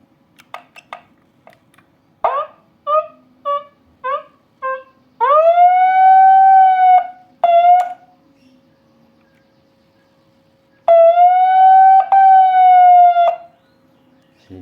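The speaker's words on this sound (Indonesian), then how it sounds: "Sirine kita coba tekan di tombol ini yang biru." A TOA ZR-2015S megaphone siren sounds with its blue button pressed: short chirping bursts first, then loud sustained wailing tones that rise and hold, pause, and return, close and alone.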